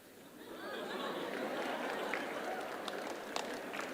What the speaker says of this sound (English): Now, on this one, the teachers are clapping more than the students.